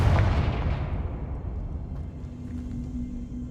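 A Confringo blast curse explodes in Hogwarts Legacy, a loud rumbling burst that opens the clip and rolls off into a long fading low roar.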